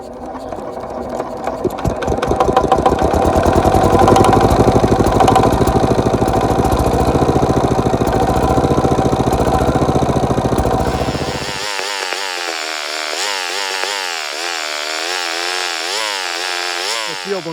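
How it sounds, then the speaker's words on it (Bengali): Old fire pump engine, a vintage hand-cranked pump unit, started and running: a loud rapid mechanical chug builds up and holds steady, then gives way to a lighter, wavering mechanical whir. "তো চলো এখন মেশিনটা স্টার্ট দিয়ে দেখি অ্যাকচুয়ালি মেশিনটা স্টার্ট উঠছে কিনা"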